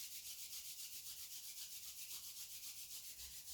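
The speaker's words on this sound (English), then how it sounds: "Rub the hands together." Palms rub together in a steady, soft, continuous swish during a quiet yoga session, faint and close, with no speech over it.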